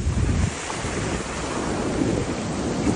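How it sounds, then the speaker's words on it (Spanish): Ocean surf rolls and breaks steadily on a beach, a loud continuous wash of waves with heavy wind buffeting the microphone throughout. "lo fresco, la ola, mira ahorita"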